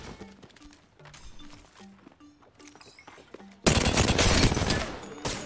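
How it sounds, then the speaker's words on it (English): Gunfire in the Apex Legends video game: scattered quieter in-game shots and footsteps, then a loud, dense burst of rapid automatic fire erupting near the end and sustained to the close. "Taking fire."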